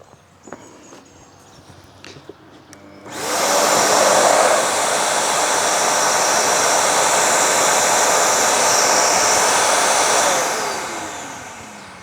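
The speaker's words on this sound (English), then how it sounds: "as soon as I started the saw, the vacuum kicked in" A loud, steady broadband roar of a Vacmaster Multi 20 PTO wet and dry vacuum starts suddenly when a power saw starts, after a few seconds of quieter clatter, running continuously before tapering off near the end.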